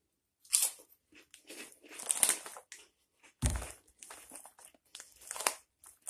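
Thin, crispy Club Crisps crackers are bitten and chewed close to the mic, giving sharp crunches followed by softer crackling chews, with brief quiet pauses between bites.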